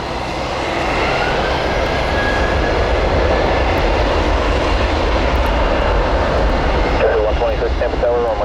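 Southwest airliner on its takeoff run from runway 1 right at Tampa in windy, rainy weather, a loud continuous engine roar that fills the whole stretch with steady broadband rumble, swelling slightly near the end.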